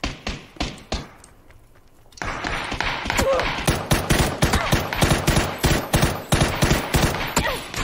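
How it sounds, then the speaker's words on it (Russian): Rapid bursts of video game gunfire crackle in a firefight, dense repeated shots and automatic volleys filling the clip after a brief quieter stretch, with a player's voice talking over the action. "Бегу на выстрелы"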